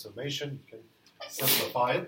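A single sharp sneeze bursts out loud and close, cutting into a lecturer's talk about a summation, with speech before and after it.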